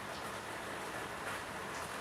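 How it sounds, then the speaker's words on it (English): Heavy rain pours down steadily after a night of hard rainfall, a dense continuous hiss of drops on surfaces with no pauses and no talking. "Listen to the rain."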